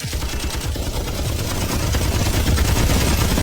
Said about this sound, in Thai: และยังเอาปืนกลหนักออกมาอีก เตรียมจะยิงพวกเขาให้เป็นรังพึ่ง